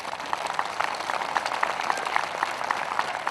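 An audience at a Hindi kavi sammelan poetry recital applauds with dense, even clapping that holds steady for a few seconds at moderate loudness, with no one speaking.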